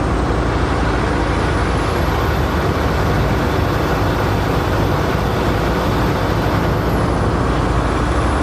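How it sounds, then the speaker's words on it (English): A truck's air brakes are applied for a check, making a loud, steady hiss over continuous engine and road rumble that holds unbroken for several seconds. "There it is, brake check."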